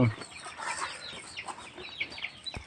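Chickens cluck softly in a farmyard with short, scattered calls over a quiet, hissy background, and one sharper burst stands out near the end.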